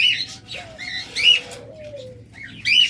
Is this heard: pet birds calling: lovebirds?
yes